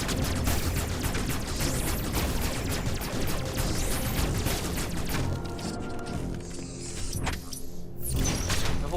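Missiles launched in Metroid Dread, a busy barrage of impacts and blasts over driving game sound that thins into a few sharp separate hits near the end.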